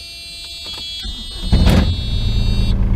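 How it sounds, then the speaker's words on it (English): A steady electronic alarm tone rings at a high pitch, then machinery noise swells and rumbles underneath it before the alarm cuts off near the end. "Just turn the machine on so it shuts that alarm up."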